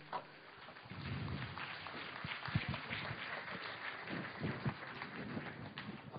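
An audience claps at a Bengali speech event, a sustained, muffled patter of applause rising after a brief quiet start and continuing steadily to the end.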